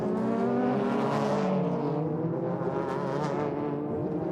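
A Toyota MR-S race car in a Super GT race at Okayama spins off and rejoins the track, its engine a loud, steady, harmonic-rich roar that holds close and constant throughout.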